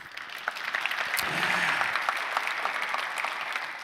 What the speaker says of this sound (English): Round of applause for Sharat.